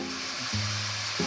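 Garlic and onion sizzle in hot oil in a pan for a green-bean adobo, a steady bright frying hiss with a low hum underneath.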